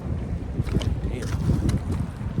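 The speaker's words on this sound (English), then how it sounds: "It's blowing hard." Strong gusting wind buffets the microphone beside a river during a steelhead fishing trip, a steady low roar with brief bursts of higher hiss, loud and continuous throughout.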